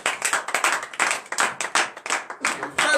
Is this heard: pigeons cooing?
no